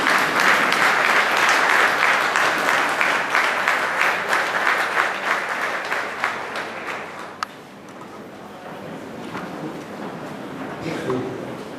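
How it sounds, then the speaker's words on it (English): A crowd gives a standing ovation at a school farewell at Indian School Salalah, dense loud clapping from many hands that gradually thins and fades to scattered claps, with voices murmuring underneath. "I think she is a standing ovation for all of us."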